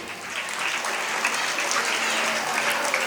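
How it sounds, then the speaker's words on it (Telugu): Audience applause at a school annual day celebration, a steady, dense wash of clapping from a sizable crowd that holds at an even level throughout. "క్లాప్స్ కొట్టండి"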